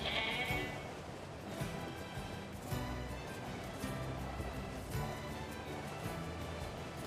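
Sheep in the NieR Replicant video game bleating faintly several times over a steady bed of game ambience, the calls evenly spaced across several seconds.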